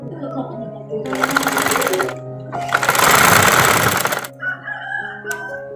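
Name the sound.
sewing machine stitching a fabric scrunchie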